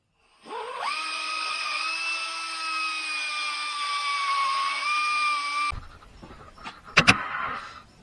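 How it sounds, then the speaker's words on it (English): A die grinder elongates a bolt hole in an HEI distributor on a 1964 Ford Galaxie, giving a steady high-pitched whine for about five seconds, then a few sharp scraping bursts as it bites the metal. "we're just going to go ahead and grab the die grinder and slot that hole a little bit."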